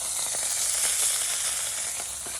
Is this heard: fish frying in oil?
yes